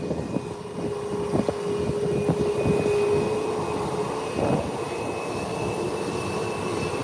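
A United Airlines airliner taxis down the ramp toward the runway at Howard Hamilton International Airport in Turks and Caicos, a steady distant engine whine and broadband roar holding throughout with no one speaking.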